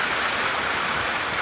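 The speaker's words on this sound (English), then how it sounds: "It is pouring." Heavy rain pours steadily during a Phoenix, Arizona monsoon storm, a dense continuous hiss of water close by with no talking.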